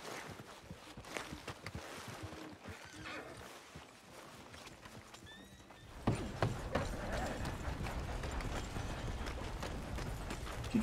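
Horse sounds from the video game Red Dead Redemption 2: a whinny and clip-clop hooves, steady and moderately loud, with the soundscape thickening into a fuller, louder rumble of movement after the midpoint.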